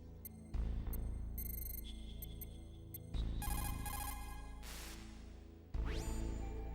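The codec call ringtone from Metal Gear Solid on PlayStation repeats three times, each ring a loud electronic trill followed by a fading tone, with short gaps of lower hum between the rings.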